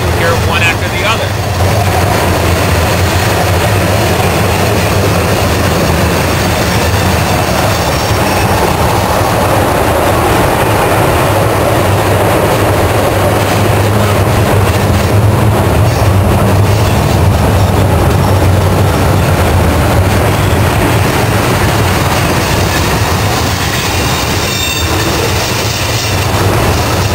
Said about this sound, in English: This train is running with two helpers on the rear end.